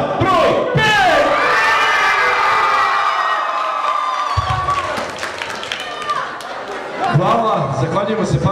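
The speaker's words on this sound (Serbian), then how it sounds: "Da čujemo navijanje i podršku za par, broj 5!" A school hall crowd cheers and shouts to back dance pair number 5 at a joint event of a gymnasium and a music school in Pančevo, with loud sustained cheering, whistles and voices that dip mid-clip and then swell again.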